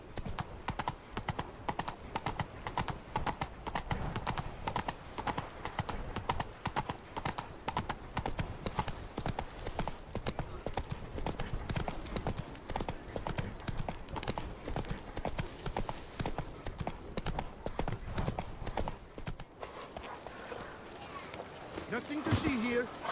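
A horse named Roach gallops in The Witcher 3, its rapid clip-clop hoofbeats pounding steadily and close throughout, with a brief shift near the end as the pace changes; no one speaks over it.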